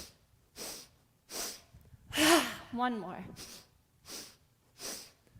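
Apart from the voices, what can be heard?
sniffing in through the nose during yoga breathing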